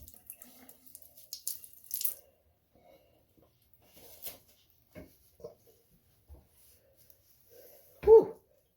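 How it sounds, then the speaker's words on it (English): Tap water splashes in short, uneven bursts close by while rinsing hair, quiet overall, ending with one louder gush. "so now I'm just going to rinse it out."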